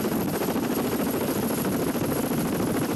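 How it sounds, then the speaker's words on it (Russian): A military helicopter on a training flight near a large anti-submarine warship, a steady loud rotor and engine drone that holds constant throughout. "даже есть вертолет, который периодически совершает тренировочные вылеты"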